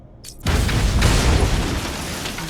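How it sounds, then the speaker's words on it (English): In Batman: Arkham Asylum, explosive gel detonates as one loud, close boom with a broad burst that rolls into a long, fading rumble of debris. "Stepping back and hitting the explode button, the detonate button,"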